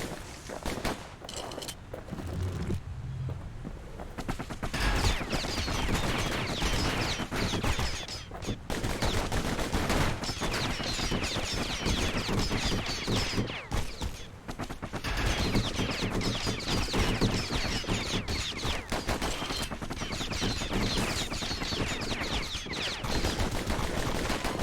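Rapid gunfire from a pair of guns wielded by the Kid in the action game Bastion, dense bursts of sharp repeated shots running almost continuously over music and ambience, with brief gaps between volleys.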